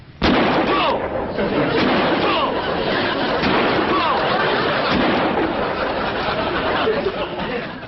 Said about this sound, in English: Yes, of course, but I think you better use the shotgun.